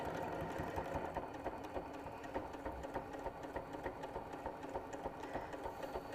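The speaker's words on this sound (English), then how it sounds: "I'm going to back stitch." A sewing machine back stitches along the edge of a fabric pouch, a quiet, rapid mechanical chatter running steadily and alone throughout.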